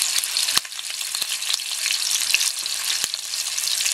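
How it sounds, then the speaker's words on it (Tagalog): Chicken wings fry in a pan over medium heat, a steady, dense sizzle with no letup, broken now and then by a few sharp pops and crackles. "i-fry natin"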